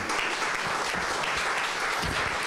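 A large crowd of about a thousand people applauds at a chamber of commerce event, a dense, steady wash of many hands clapping throughout with no gaps.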